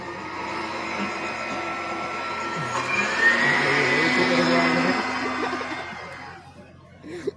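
A voice imitates a kitchen mixer grinder during a devotional sermon, making a sustained, wavering whirr that builds in the middle and fades near the end.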